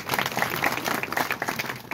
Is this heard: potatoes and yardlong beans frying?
no